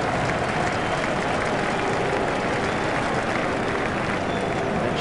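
A dense, unbroken crowd roar fills a cricket stadium in an EA Sports cricket video game, a loud steady wash of cheering and applause with no break and no voices standing out.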